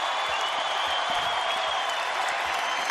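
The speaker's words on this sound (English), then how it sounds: "Crowd to their feet." A basketball arena crowd at a Wyoming Cowboys home game in Laramie roars and applauds steadily, a dense wash of cheering and clapping that fills the space without letup.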